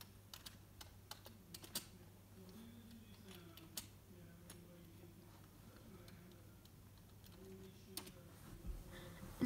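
Keys clatter on a computer keyboard in quick, uneven bursts of small clicks, fairly quiet against a low steady hum.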